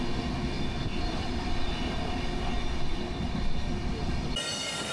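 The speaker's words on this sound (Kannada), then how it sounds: "ಸಂಜೆ 7 ಗಂಟೆಗೆ SMVBಯಿಂದ ಟ್ರೈನನ್ನು ಬೋರ್ಡ್ ಮಾಡಿದ್ವಿ." A train departing Bangalore's SMVB station in the evening rumbles along with a steady, loud rolling drone and rattle of railcars, heard from inside, before cutting off abruptly near the end.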